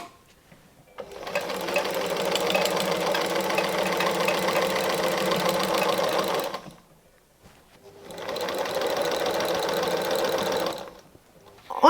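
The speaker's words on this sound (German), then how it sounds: "Wir nähen die letzte Naht und sind fertig." A sewing machine stitches the final seam of a fabric origami advent calendar in two long, steady bursts of rapid mechanical whirring and clatter, separated by a brief pause.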